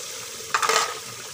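Garlic paste, tomato, green chillies and garam masala are stirred and fried in a pan for chicken biryani, giving one short, close burst of sizzling and scraping over a steady background hiss.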